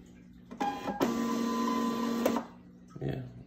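A Zebra ZP 450 thermal label printer feeds and prints a label, a short whirring motor run of about a second and a half with brief mechanical clicks before and after, close and clear.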